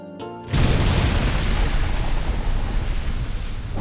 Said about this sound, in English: after the song, this explosion is played